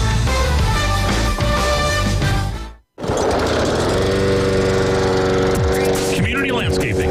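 Gasoline lawn mower running in a lawn care advertisement, a loud, steady engine drone mixed with other busy sound, cut off by a brief silence near the middle before the roar resumes.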